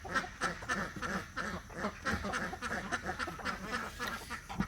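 Ducks quacking steadily during a morning feeding, a dense, overlapping chorus of close, loud calls that continues without pause.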